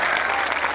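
A brief burst of audience clapping at an Urdu poetry recital (mushaira), dense and steady, with a crowd murmur underneath.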